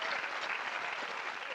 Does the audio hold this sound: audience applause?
yes